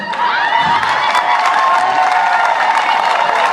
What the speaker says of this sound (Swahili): Jemel Doi asimame apigiwe makofi ya kipekee.